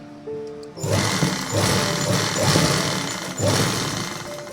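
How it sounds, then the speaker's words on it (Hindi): A sewing machine stitches the back side of trouser fabric, its motor running in steady bursts with a rhythmic pulsing chatter for about four seconds after a short quiet start. "और इसे इस तरफ पीछे की तरफ सिलाई लगा लेंगे"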